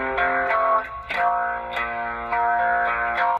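An electric guitar played through a Flatsons KMF-1 pedal on its Voodoo setting rings out in a few sustained, heavily modulated chords with a warbling, chorus-like distortion, each strum attacking sharply before ringing on.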